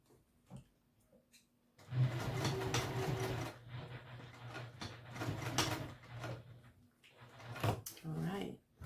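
A sewing machine runs in bursts while top stitching fabric for a Blue Calla Boronia Bowler bag, a low mechanical whir with clicks, under a person talking.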